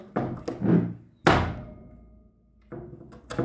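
A door swings shut with a soft, dull thud that rings out and fades, followed by a few fainter knocks and bumps nearby.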